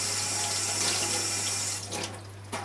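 Tap water running steadily into a kitchen sink while bell peppers are rinsed for a roasted pepper and tomato soup, a close continuous splashing stream that briefly shifts as the flow is interrupted near the end.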